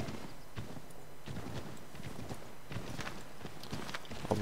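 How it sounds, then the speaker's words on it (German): Horse hooves clip-clopping at a steady riding pace in Assassin's Creed III, a continuous rhythmic patter of footfalls that stays fairly quiet and even throughout. "Aber wir reiten jetzt mal."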